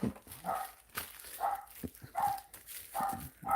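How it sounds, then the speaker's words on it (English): A dog barks repeatedly at a distance, a handful of spaced yaps, faint and thin against a quiet background. "I think my daughter's home because the dog is barking"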